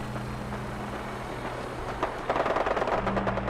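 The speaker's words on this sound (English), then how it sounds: "I'm hearing gunshots everywhere." A steady low mechanical drone fills the background in Fallout 4, then a rapid burst of gunfire rattles in, continuing as dense, moderately loud automatic shooting.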